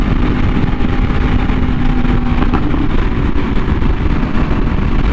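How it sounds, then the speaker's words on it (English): Custom 2022 Yamaha R1M motorcycle ridden through rush-hour traffic, its engine a loud, continuous roar close by with constant wind rumble. "you could hear this thing from a mile away and you know exactly what bike it is"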